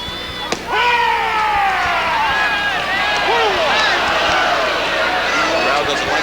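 Crowd at a 1989 Little League World Series baseball game reacting to a home plate umpire's strike call, a sustained mass of voices rising into a continuous roar. Several distinct calls stand out, and a commentator talks over the crowd.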